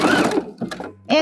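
A sewing machine runs a short backstitch at the end of an overcast-stitched seam along a fabric edge, its brief whirring burst half-masked by a voice talking over it before a short pause.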